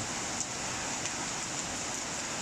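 Steady rain hissing continuously, a dense even wash of noise with no distinct drops standing out and no voices.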